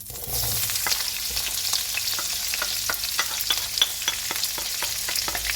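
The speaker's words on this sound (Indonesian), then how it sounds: "Sekarang kita tumis perbawangannya." Shallots and garlic sauté in a reduced amount of oil for sapo tahu, a steady sizzle punctuated by quick, regular scraping strokes of a spatula against the pan, close and with no talk.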